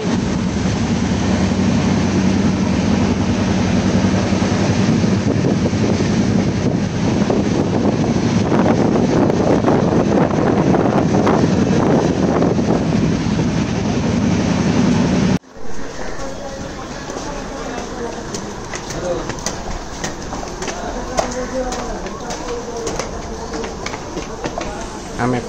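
A passenger train rumbles steadily from inside the carriage, a dense continuous roar with wind buffeting the microphone, abruptly dropping to a quieter rattle of wheels and clatter partway through; voices are faintly present.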